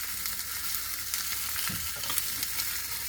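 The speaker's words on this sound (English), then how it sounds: "now it's time to flip your fish" Glazed salmon fillets sizzle in a hot pan with a steady, loud frying hiss. A brief low knock of a spatula or pan marks the flip partway through, and no one speaks.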